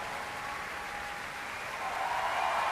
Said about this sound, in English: Another cheer there for our leader Rose Gosney